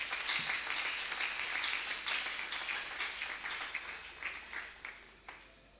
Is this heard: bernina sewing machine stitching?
no